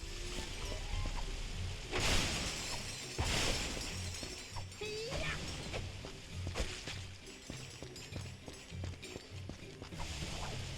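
Wooden crates shattering in the PS3 game Ratchet & Clank Future: Quest for Booty, with two loud smashing bursts about a second apart over looping game music and ambient water sounds, followed by smaller impacts and effects.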